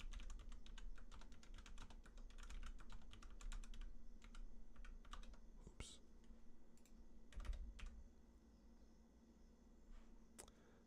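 Rapid typing on a computer keyboard while entering code in an editor, with dense bursts of key clicks that pause and resume, close and moderately loud over low background hum.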